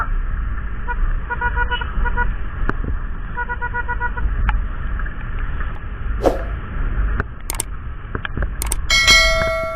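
A motorbike escort honks its horn for an ambulance running without a siren: short horn toots repeat over steady engine and road rumble, with a few sharper blasts near the end.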